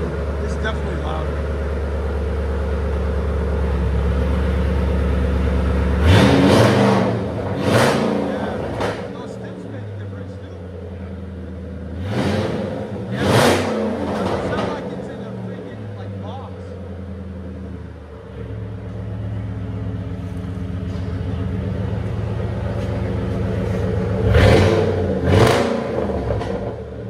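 A 2007 Saleen S331 pickup with a supercharged 5.4L V8 and H-pipe delete exhaust idles with a deep, steady rumble, then revs hard in three loud bursts spread across the clip, with a voice talking nearby.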